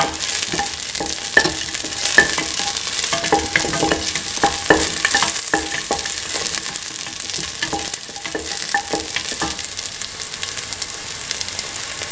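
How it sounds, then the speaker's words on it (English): Shallots and garlic sizzle and crackle in a hot pan while being stirred, with steady frying hiss and repeated scraping stir strokes. "Sort and mix the shallots and garlic."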